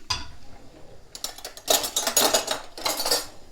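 Metal cutlery clinks and rattles as a knife is picked out from among other utensils, several bright jangling bursts close by with no talking.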